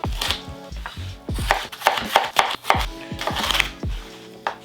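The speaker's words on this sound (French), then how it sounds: "Là, on coupe le poivron à environ la même taille que l'oignon. On coupe grossièrement." A knife coarsely chops a red bell pepper on a board, producing a series of close, sharp thuds that come in quick irregular bursts with brief pauses between them and no voices.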